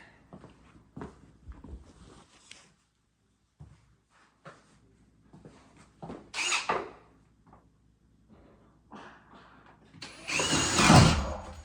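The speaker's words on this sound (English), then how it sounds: "I can just drill it." A power drill whirs in short bursts, ending in one long, loud run, with scattered knocks and handling noises in between.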